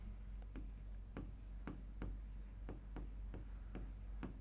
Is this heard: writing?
yes